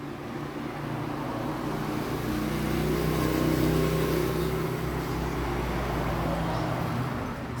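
The motor of a Karcher K4 Premium pressure washer with a water leak runs on without shutting off, a steady droning hum that swells slightly in the middle, close and continuous.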